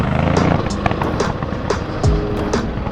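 A Ducati motorcycle fitted with an Akrapovič exhaust roars past outdoors on a mountain road, its engine note rising and falling with sharp revs and a low rumble throughout.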